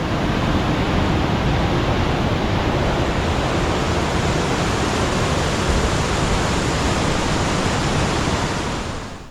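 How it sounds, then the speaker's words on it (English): Waterfalls on a rain-swollen river in the Lake District roar as a steady, dense wall of rushing white water, loud and unbroken throughout before easing slightly at the very end. "I was pretty excited to see the waterfalls, just so ridiculously majestic"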